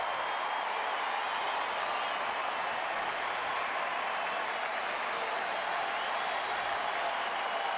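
The Fenway Park crowd at a Cleveland at Boston baseball game roars in a sustained, dense wash of cheering and clapping that holds steady throughout, distant and broad with no single voice standing out.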